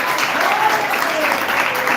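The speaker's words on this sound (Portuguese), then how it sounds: "Quem pode aplaudir a Deus por essa palavra?" A church congregation claps together in a sustained, even burst of applause during a youth service, filling the room with steady mid-level clapping and faint voices mixed in.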